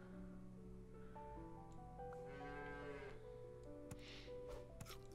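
A cow moos in a video game, a soft drawn-out lowing over quiet tonal game sounds and small effects, with no voices.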